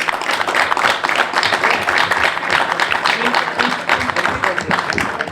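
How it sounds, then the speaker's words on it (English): A crowd applauds at a Roselle Park borough council meeting, with dense, steady clapping that fills the room and continues for several seconds. "Round of applause."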